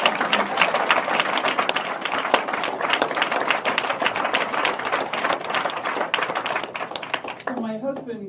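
An audience claps together at a religion and ecology lecture honoring Standing Rock, a dense, steady patter of many hands that carries on loudly before a voice cuts in at the very end.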